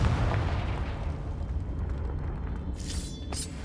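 A Confringo fire spell in the Hogwarts Legacy game lands as a deep, rumbling explosion that rolls on, ending in a couple of sharp bright crackles, with no voices.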